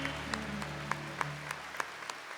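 A church congregation claps in slow, evenly spaced beats, faint and distant in a hall with a low hum underneath.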